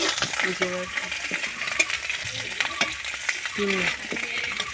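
Shrimp sizzling and frying in a pan for a Bengali shapla-and-shrimp curry, a steady crackling hiss broken by scraping stirs and clinks of a metal utensil against the pan.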